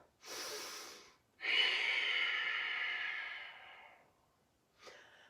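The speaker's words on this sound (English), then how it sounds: "Remember the Ujjayi breath that we did at the beginning of our practice." Strong Ujjayi yoga exhales, throaty ocean-like breaths through a closed mouth: a short breath, then a long sustained rasping exhale that fades out, and a brief third breath, close and alone.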